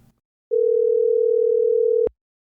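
A single steady telephone dial tone, a pure loud hum lasting about a second and a half, then cut off abruptly into silence.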